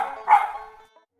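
A single dog gives one short, loud bark that trails off quickly, set within a children's audiobook story about a boy and his faithful dogs.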